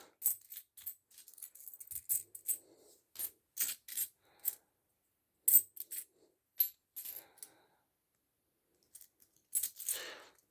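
Commemorative coins, including Polish 50-groszy pieces, drop one by one onto a pile with bright metallic clinks, irregular and close, with short pauses between bursts and no talk.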